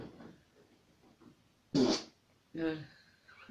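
Two short, loud fart bursts sound close by in a quiet room, the first sharp and brief, the second longer and rumbling, with faint murmuring voices around them.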